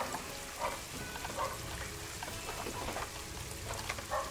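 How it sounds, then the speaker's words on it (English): Rain falls in the zoo-building video game Planet Zoo, a soft, steady patter with scattered droplet taps, fairly quiet and continuous. "It's raining."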